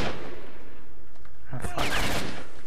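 Gunfire in the video game S.T.A.L.K.E.R. comes as a short burst of loud cracking shots near the end, over a dense background of game noise.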